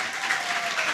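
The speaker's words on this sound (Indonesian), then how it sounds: "tepuk tangan untuk kita semua" Brief burst of audience clapping at a youth health dialogue event on anemia, a dense, moderately loud patter lasting about a second.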